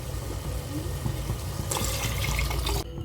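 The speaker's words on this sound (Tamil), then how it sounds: "இப்போ நம்ம தண்ணி ஆட் பண்ணிக்கலாம்." Water pours with a rushing splash into a pot of goat intestine curry partway through, following soft sizzling and stirring, then cuts off abruptly.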